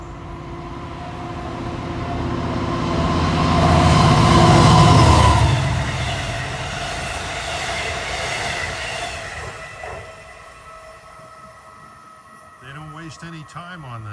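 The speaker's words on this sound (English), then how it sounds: "our first customer is train 658 en route from Hunters Point Avenue to Port Jefferson" Long Island Rail Road train 658, bound from Hunters Point Avenue to Port Jefferson, passes through Garden City with a loud rushing roar that peaks and fades, followed by lighter rolling noise and faint wheel squeal.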